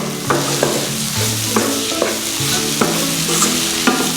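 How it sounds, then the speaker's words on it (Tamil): Spatula stirring vegetable cutlet masala mix in a hot pan, loud sizzling frying with repeated scraping strokes against the metal roughly every half second, up close. "இதில் மிக்ஸ் பண்ணி நல்லா வதக்கி விடுவோம்"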